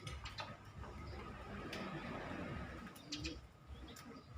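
Pigeons coo softly at a moderate distance while feeding on scraps of crusty burnt rice, their low murmurs running steadily under faint background noise.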